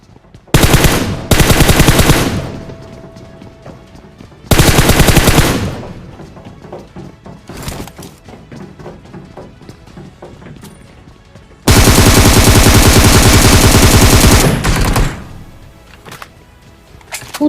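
Video game gunfire comes from all sides: several loud, sustained bursts of automatic fire, each lasting one to three seconds, separated by quieter gaps with scattered single shots, the longest burst coming near the end.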